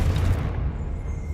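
A Confringo spell blast in the Hogwarts Legacy video game goes off as a single deep, loud boom that rumbles and slowly fades over about a second.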